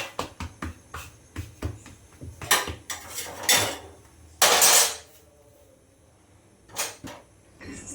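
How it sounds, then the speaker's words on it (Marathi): Dishes, pots and pans clatter and clink while being washed after dinner in a home kitchen, with sharp irregular knocks of metal utensils and a few louder scraping bursts, then quieter gaps. "जेवणाची भांडी पण घासून घेतली"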